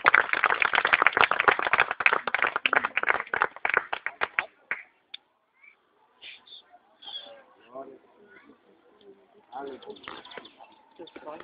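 A church congregation at a Baptist baptism service applauds in a dense, fast burst of clapping for several seconds, then it thins to scattered sounds and murmuring voices.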